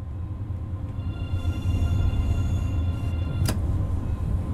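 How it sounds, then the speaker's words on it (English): A third-generation Siemens intercity express train in Train Sim World 2 runs with a steady low rumble and faint whine, broken once by a brief sharp click. "This particular train is a third-generation intercity express built by Siemens in Germany for international operations"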